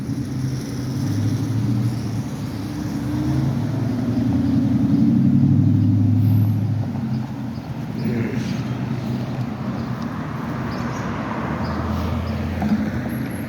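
Steady road traffic on Blue Hill Ave in Boston, a continuous low rumble of passing cars that swells to a louder pass in the middle and then settles back to a constant drone, with no voices.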